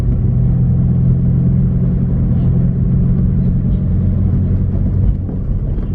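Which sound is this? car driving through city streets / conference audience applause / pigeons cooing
car driving through city streets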